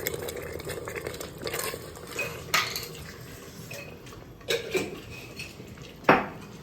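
A spoon is stirred through salted chicken heart biryani in a home kitchen pot, giving soft scraping and several sharp metallic clinks against the pot rim, close and intermittent, with no talking.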